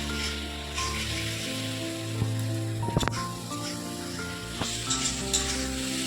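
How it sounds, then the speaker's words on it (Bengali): Masala spices sizzle and fry steadily in hot oil for a fish curry, a close, continuous crackle with a few sharp clinks of a utensil against the pan partway through. "ভালো করে কষা হচ্ছে এখন মশলা যতক্ষণ না তেল ছাড়া হবে"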